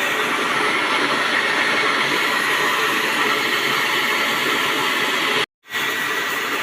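A rice milling machine runs with a loud, steady mechanical roar and hiss, continuous throughout except for a brief cut near the end.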